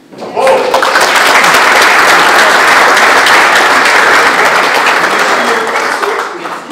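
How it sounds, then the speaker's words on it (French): A large audience applauds an invited guest at an evening wine-cellar event, steady dense clapping rising quickly, holding loud and even for several seconds, then tapering slightly at the end. "Et je vous remercie d'applaudir Madame Géraldine Lapalus."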